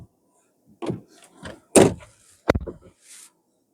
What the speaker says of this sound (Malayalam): Door open.